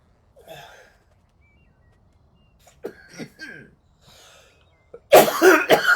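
A harsh burst of coughing erupts at the end, loud and close after quieter breathy vocal sounds and brief speech, marking the onset of a coughing fit after small hits.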